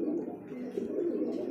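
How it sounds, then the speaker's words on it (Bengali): Rasgolla-breed pigeons cooing close by, a steady low throaty burbling that rolls on without a break through the whole stretch, with no voices over it. "জনপ্রিয় কবুতর যাকে বলে রাসগোল্লা কবুতর"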